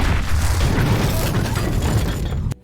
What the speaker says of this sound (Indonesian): terdengar ledakan bom terjadi di luar Plaza Mayor